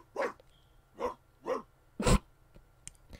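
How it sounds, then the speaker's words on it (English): A dog in The Sims 4 video game gives four deep, separate barks at a steady pace, loud and close, followed by a few softer huffs. "It's so weird hearing him bark so deeply"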